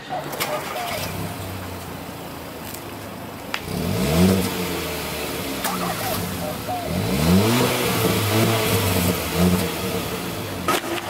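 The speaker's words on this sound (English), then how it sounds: "So there's the exhaust note for the Ultimate." A Hyundai Veloster Ultimate's engine revs repeatedly, its exhaust rising and falling in pitch over a steady idle, with brief voices in the background.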